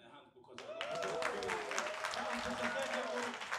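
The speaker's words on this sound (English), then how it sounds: "I think everyone should clap their hands" Audience at a summer music festival student performance clapping steadily after a short quiet start, with voices talking over the sustained applause.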